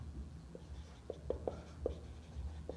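Pen or marker writing on a board or paper during a trigonometry lesson: faint, close scratchy strokes in short irregular bursts against quiet room hiss, with no talking.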